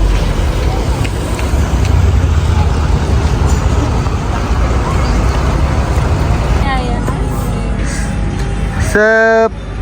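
Trucks roll off a ferry at Lembar port, Lombok, in a dense, steady rumble of engines and road noise. A short horn-like tone sounds near the end.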